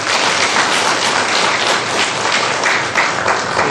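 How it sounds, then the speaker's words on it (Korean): A church congregation at a missionary dispatch service claps in thanks for their pastor, a dense, steady wash of applause from many hands that fills the room throughout without a break. "우리 김 목사님을 위해서 감사 박수 한번 해주시겠습니다"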